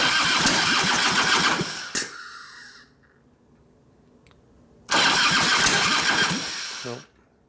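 1989 Harley Softail with a 93ci panhead stroker motor, its starter cranking in a fast chugging burst, then a pause of near silence before a second cranking attempt that cuts off abruptly.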